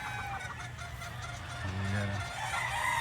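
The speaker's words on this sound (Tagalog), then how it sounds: "Daming manok" Many chickens clucking and calling together in a dense, steady chorus, with a low continuous rumble beneath and a slightly louder burst near the end.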